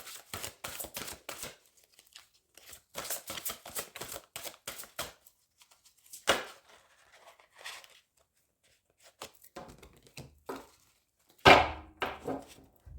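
Oracle cards shuffled and drawn by hand for a daily guidance reading, bursts of crisp riffling and slapping in quick clusters separated by quiet pauses, with a few louder taps near the end.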